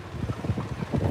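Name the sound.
wind blowing into the microphone outdoors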